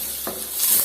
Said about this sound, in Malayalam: കുറച്ച് വെള്ളം ഉണ്ടായിട്ട് അതാ പൊട്ടിത്തെറിക്കുന്ന സൗണ്ട് കേട്ടത്.